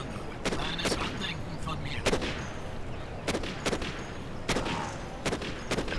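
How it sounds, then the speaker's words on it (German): Bombs and gunfire in the real-time strategy game Command & Conquer Generals Zero Hour, a steady stream of sharp reports and bursts spaced irregularly over dense battle noise, with no talk. "Beobachten wir eine Bombe bei ihrer Arbeit."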